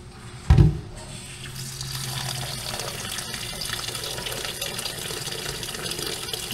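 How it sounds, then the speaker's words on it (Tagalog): Cold tap water runs steadily into a container to soak cooked pasta, a brief thump at the start followed by a continuous rushing pour that stays at an even level to the end. "Ibabada po natin ito sa tubig na malamig para di pa magkapit-kapit."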